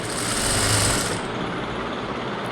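A sewing machine runs fast and steady, stitching a blouse seam up close with a dense rapid mechanical whir and rattle that eases slightly after the first second.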